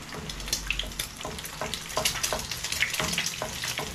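Hot oil crackles and spatters in a pan before frying an egg, with dense, irregular pops and hisses that continue steadily from start to finish.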